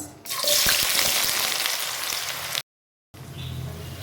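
Medium-sized onions dropped into about a cup of hot oil in a pan for chicken biryani, giving a loud, steady close hiss and sizzle with a brief cut to silence before the sizzling resumes more softly.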